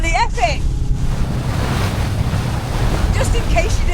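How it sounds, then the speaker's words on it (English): Strong wind and waves on Loch Ness in changing weather, a loud, constant rush of gusting wind buffeting the microphone over surging water, with a faint voice briefly at the start. "We've got winds, we've got waves."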